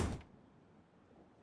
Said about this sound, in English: I hope that door didn't lock itself